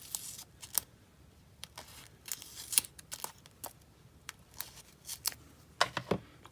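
Scissors snip through card while making an Easter card, a series of crisp, close cuts at an irregular pace, with brief rustles of paper between them and no talking.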